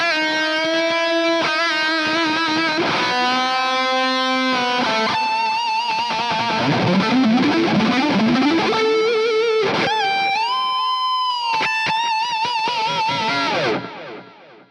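A distorted electric guitar plays a sustained lead solo through an STL Tones Tonality preset with delay and reverb, with held notes, bends and fast runs, loud and continuous before stopping at the end.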